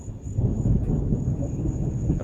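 Deep, continuous thunder rumbling through a storm after a burst of lightning bolts over Madison, Mississippi, a low rolling roar with a faint steady hiss above it.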